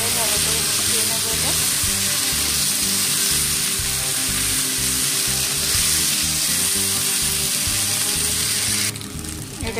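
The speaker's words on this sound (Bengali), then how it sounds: "পেস্টটাকে দিয়ে আমি এবার ভালো করে মিশিয়ে নেবো।" A spice paste fries and is stirred in a pan for a raw banana dish, producing a loud, unbroken hiss with rhythmic spatula scraping over a low hum, dropping away suddenly just before the end.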